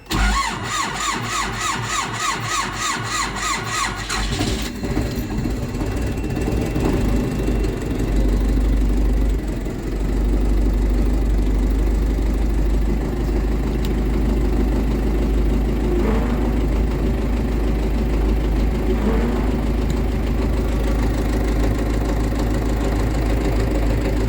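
A KIY-14102 diesel tractor engine cranks for a few seconds with rhythmic starter chugging, then catches and settles into a loud, steady low idle.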